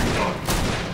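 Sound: gunfire in the video game CountryCide

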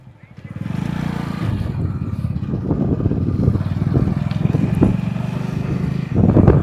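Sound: Hero Splendor motorcycles riding

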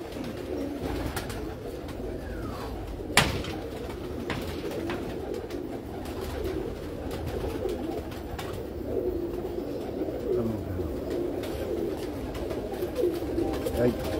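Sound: pigeons cooing

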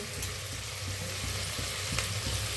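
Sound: dry-roasting washed sprouted moth beans (matki) in a pan

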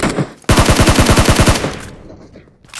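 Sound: gunfire in a video game (PUBG, Erangel)

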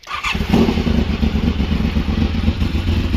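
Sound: 1986 Honda VFR 750 motorcycle engine starting

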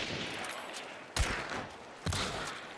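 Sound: gunshots in a video game

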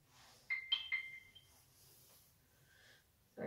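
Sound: mobile phone ringtone

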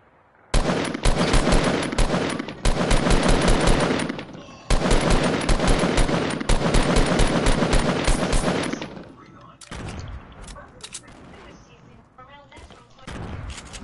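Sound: gunfire in the video game Fortnite

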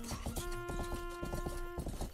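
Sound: wounded horse walking slowly in a video game (Rustler)

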